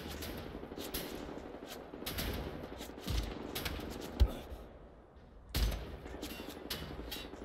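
Gunfire in the shooter Wolfenstein: The New Order: several sharp shots and short bursts scattered over a busy battle din, with a couple of louder reports standing out.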